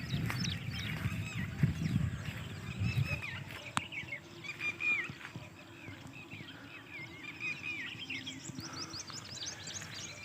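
Drongo birds call repeatedly outdoors at dawn with sharp, chirpy whistled notes scattered throughout, over a soft rumble that is stronger at the start.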